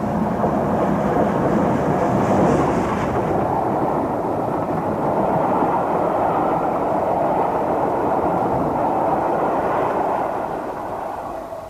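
A heavy, continuous rumbling roar of an express steam locomotive passing close by, steady and loud, slowly easing off toward the end.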